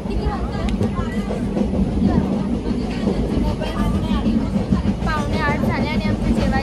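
Interior rumble of a moving train carriage, a steady loud clatter and hum with people talking over it throughout.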